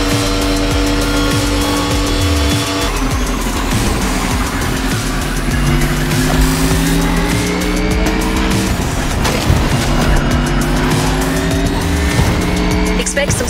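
Race cars in The Crew Motorfest driving game scream past at high revs, engine notes rising and dropping through gear changes with bursts of tire squeal, loud and continuous under a narrator's voice.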